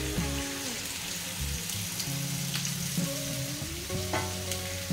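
Marinade gravy of ground spices, along with the rinse water from the mixer jar, is poured into a pan of sizzling chicken cafreal, the Goan dish. Steady loud frying hiss carries throughout, with background music and no talk.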